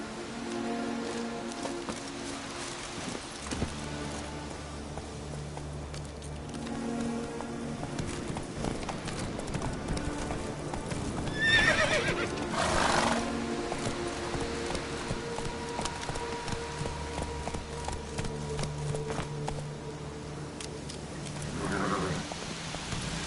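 A horse gallops in The Witcher 3 video game, steady clip-clop hoofbeats with a whinny around the middle, heard alongside game ambience and rustling.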